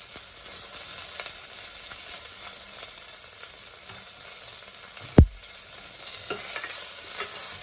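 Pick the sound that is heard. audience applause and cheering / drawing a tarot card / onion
onion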